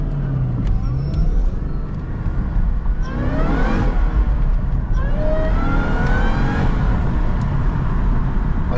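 A Chevy SS engine fitted with a new intake, revved hard several times in quick succession, with rising and falling whines over a loud, steady rumble close by.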